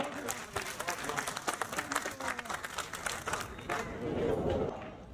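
Outdoor crowd at a Greater Noida farmers' tractor march rally breaks into loud, dense applause that swells and holds for several seconds, with scattered voices in the mix.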